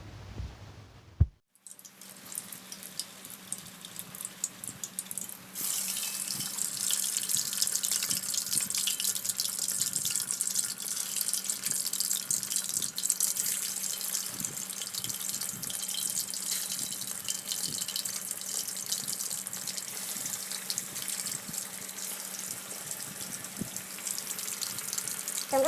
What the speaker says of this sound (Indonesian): masukkan pempek yang sudah kita rebus tadi secara berlahan ke dalam kompor yang sudah kita siapkan dan kita isi minyak